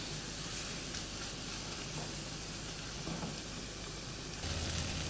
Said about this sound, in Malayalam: തുറന്ന് വെച്ച് തന്നെ നമുക്ക് ഈ പൊടികളൊക്കെ ഒന്ന് വഴറ്റി എടുത്തുകൊണ്ട് വരാം